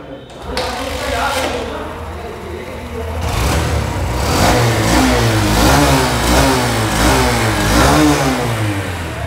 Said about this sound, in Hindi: आपने देखा कि बाइक स्टार्ट हो रही है